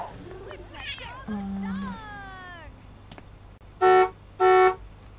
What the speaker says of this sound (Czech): Někdo, někdo na nás troubí a nevím proč